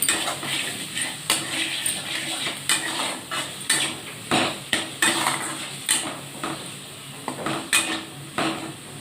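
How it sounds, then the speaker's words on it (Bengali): Koi fish masala with chilli powder is sautéed in a pan, with a steady sizzle under repeated sharp scrapes and clinks of a metal spatula stirring close by. "গুঁড়ো লঙ্কা বেশি করে দিলাম, পরিমাণ মতো নুন, ভালো করে কষিয়ে নিতে হবে"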